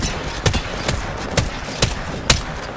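Gunfire in Apex Legends: a run of sharp shots at an uneven pace, about six distinct cracks over a steady din of game noise, with no talk.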